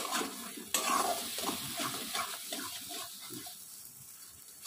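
Pointed gourd (potol) and fish bharta being stirred in a hot pan, with close, continuous scraping and a moist sizzle that gradually quieten, and no voices.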